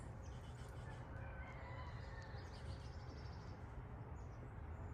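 Outdoors, chickens and other birds call faintly in the distance, soft scattered clucks and chirps over a low steady background hum.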